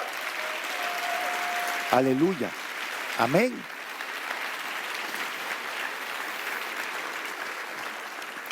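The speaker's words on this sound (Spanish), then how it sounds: "Dale un aplauso más fuerte al Señor." A church congregation claps steadily and loudly through a sermon service, with brief voices calling out over the sustained applause.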